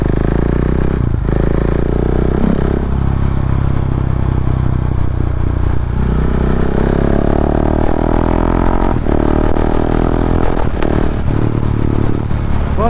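A Husqvarna Vitpilen 701 single-cylinder motorcycle is ridden hard, its engine loud and close with rising revs broken by quick-shifter gear changes, under rushing wind noise.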